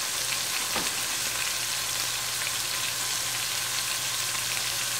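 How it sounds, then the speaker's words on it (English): Steady, continuous sizzling of onions and meat browning in a hot pan, with a low hum underneath and a brief clatter near the start; no talking. "I am browning up some onions and the meat"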